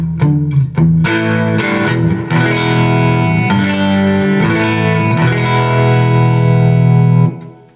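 A Fender '63 Telecaster plays through a Louis Electric Columbia Reverb amp with 6V6 tubes, using reverb only with the slapback delay switched off. Loud strummed chords ring out and sustain for about seven seconds, then stop abruptly.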